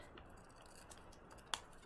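Small scissors snipping kraft paper, a single sharp close snip standing out from a faint quiet background.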